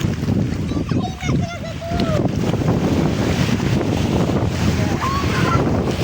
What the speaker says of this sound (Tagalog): Malakas na yung alon, guys, oh.